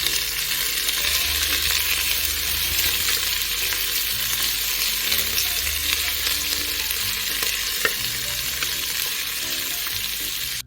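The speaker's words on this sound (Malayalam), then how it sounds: "എല്ലാം ഇളക്കി യോജിപ്പിച്ച് നല്ലപോലെ മൂപ്പിച്ചെടുക്കണം സവാള" Sliced onions frying and being stirred in a pot for cooker biryani, a continuous loud close sizzle with faint scraping stirs throughout and one sharp clink near the end.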